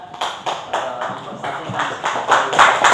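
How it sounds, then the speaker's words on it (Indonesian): A group's applause in a teacher-training class session: steady, dense clapping from many hands that builds and grows louder over a few seconds. "Mari kita kasih aplaus bagi kelompok yang sudah"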